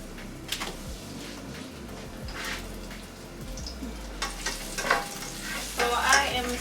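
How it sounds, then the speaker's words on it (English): Onions sauté in a pan at home on a snowy day, with a moderate sizzle under repeated scraping stirs of a utensil, the stirring growing busier and louder toward the end. "So I am sauteing my onions."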